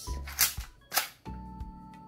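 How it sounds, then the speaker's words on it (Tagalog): An airsoft gun being fired during an FPS power test gives a couple of sharp, close snapping bursts, followed by a steady high electronic beep tone. "Unang putok"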